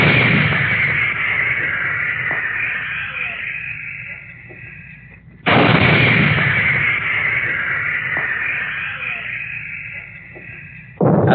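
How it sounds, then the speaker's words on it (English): 155 mm artillery guns firing at enemy positions in war, two loud heavy booms about five seconds apart, each followed by a long rolling rumble that slowly fades. "the big guns, the 155s, pounded away at enemy positions"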